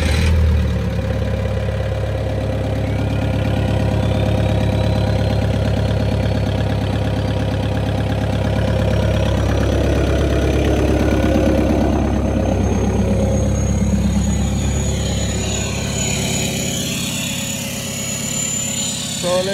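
A Volkswagen Mk2 with a swapped GTDI engine idling just after start-up, a steady close mechanical drone with a faint whine rising partway through, continuing evenly throughout.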